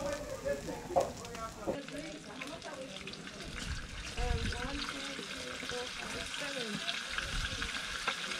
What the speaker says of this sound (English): The final of the frying of the fish.